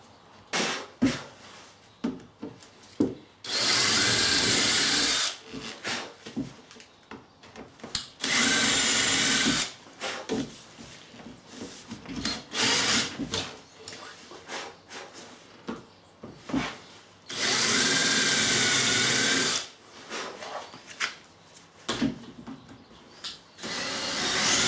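A power drill runs in several short bursts, boring into wood while building a set of drawers, with clicks, taps and handling noises between each pass.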